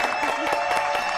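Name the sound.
studio audience applause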